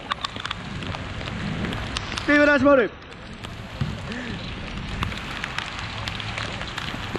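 Heavy rain from a sudden downpour pours onto the outdoor futsal court at Adidas Futsal Park Shibuya, a steady broad hiss under shouted talk from players, with one brief high tone partway through.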